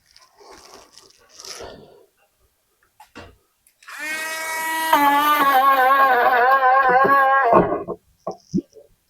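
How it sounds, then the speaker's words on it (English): A cheap, underpowered Harbor Freight die grinder with 60-grit sandpaper works a fiberglass RC boat hull, spinning up to a wavering high whine for a few seconds before cutting off, with scattered handling noises and brief talk around it. "I'm using this cheapo Harbor Freight, I don't know what this is, die grinder, I guess. It's not very strong, and this is a 60 grit sandpaper"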